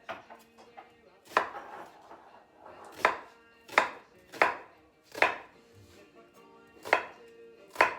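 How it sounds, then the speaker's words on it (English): A knife chopping an onion on a cutting board in a home kitchen, about eight crisp, fairly evenly spaced chops, close and clear with quiet pauses between them. "And let's get our onion cut."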